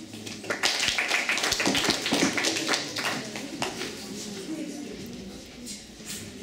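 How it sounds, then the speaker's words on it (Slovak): Applause at a World AIDS Day event, a crowd of hands clapping loudly for a few seconds and then thinning out into scattered claps, with a voice audible faintly underneath. "Poprosím potlesk"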